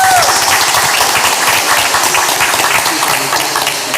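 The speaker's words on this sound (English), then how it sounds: "another round of applause" Sustained applause from a large crowd at a school board meeting, a dense steady patter of many hands clapping at once without a break.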